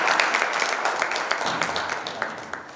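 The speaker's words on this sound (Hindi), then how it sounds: "मैं चाहता हूं कि आपकी घनघोर तालियां भाई सुनील भारी को इस मंच पर आमंत्रित करें।" Audience applause welcoming a poet onto the stage at a Hindi poetry recital, a steady wash of clapping with some sharper individual claps standing out, fairly close and sustained throughout without talk.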